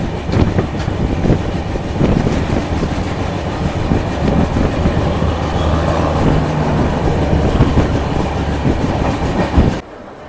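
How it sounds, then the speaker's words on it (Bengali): The 18409 Sri Jagannath Express, running from Shalimar to Puri, makes a loud, steady rail rumble and clatter with wind buffeting. The noise continues unbroken for about ten seconds, then drops off abruptly. "2 মিনিট আগেই ট্রেন কিন্তু প্ল্যাটফর্মে ঢুকিয়ে দিয়েছে"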